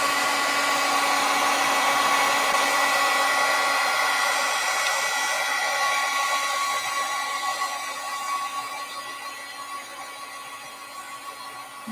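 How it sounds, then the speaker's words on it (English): A heat tool blows a continuous, loud, airy roar while melting embossing powder, holding steady and tapering slightly softer toward the end, with no talking. "And we're going to use our heat tool."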